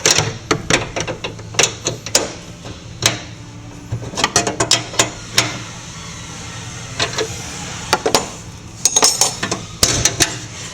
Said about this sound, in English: I'm going to snug the latch striker pin